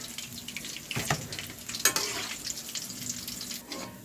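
Fried chicken sizzles and crackles steadily in hot oil, close by, with occasional clinks of a utensil stirring.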